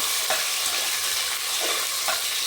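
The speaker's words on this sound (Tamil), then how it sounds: "எல்லாமே நல்லா வதங்கிட்டு வெங்காயம், சின்ன வெங்காயம், பூண்டு எல்லாமே நல்லா வதங்கிடுச்சுங்க" Onions, shallots and garlic fry in a pan for a rice-and-lentil dish, a constant close sizzle with a few soft stirring clanks and no voices.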